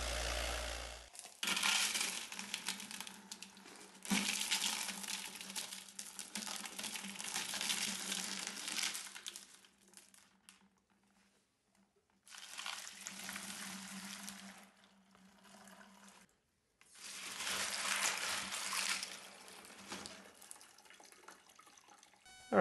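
Tumbled rocks rinsed under running water in a sink, long bursts of gushing tap water alternating with quiet pauses, rattling stones and drips, close by and without voices.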